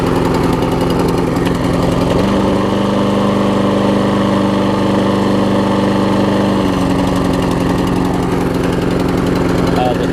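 A small Troy-Bilt self-propelled lawn mower engine with a faulty auto choke idles loudly and steadily close by, its pitch dropping briefly for a few seconds before settling back.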